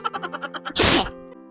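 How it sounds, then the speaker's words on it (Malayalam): A single forceful sneeze bursts out during a sneezing challenge, preceded by a run of short rhythmic vocal catches and followed by a brief fading tail. "ഓൾറെഡി നല്ല തുമ്മല"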